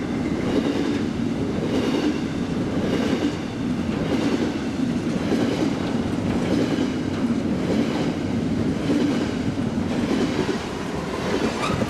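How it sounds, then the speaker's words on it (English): A heavily loaded goods train rumbles past in a continuous loud roar, with a steady rhythmic clatter of wheels over rail joints throughout and no voices. "Good train going through."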